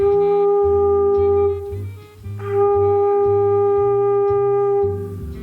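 A flute holds a steady G, a clear sustained tone that dips briefly near the middle and then resumes, over a rhythmic low accompaniment with no talking.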